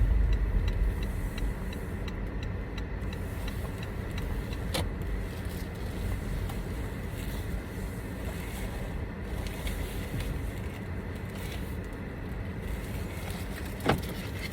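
Car being parked, a continuous close engine rumble and road noise with faint wind, a sharp knock or thump standing out near the end, no talk over it.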